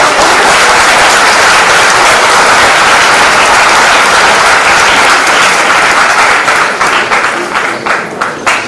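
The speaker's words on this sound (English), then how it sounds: "So please, one round of applause." Sustained applause from an audience at a school prize ceremony in a convent college hall, loud and dense throughout before thinning into scattered claps near the end.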